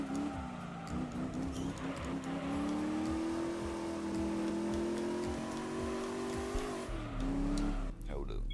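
Honda NSX-R prototype race car in Gran Turismo 3 holding a steady high engine note through a long gear, with tire squeal and a brief drop near the end, under continuous talk.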